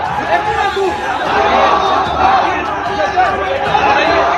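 Large crowd of protesters in India with police deployed to control them, a loud, dense roar of chatter and shouting that surges in waves throughout.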